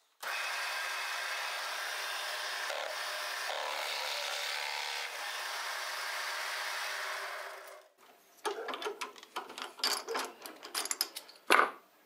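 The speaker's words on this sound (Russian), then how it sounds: "и сверлим" A drill with a knot-cutting bit bores into a clamped wooden rail while furniture plugs are made: a steady, fairly loud whirring grind for about eight seconds, then scattered scraping and knocking as the work is handled.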